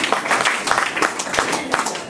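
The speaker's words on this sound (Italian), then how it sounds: "le facciamo un applauso" Concert audience applauding in a large crowd, dense continuous clapping throughout with some voices mixed in.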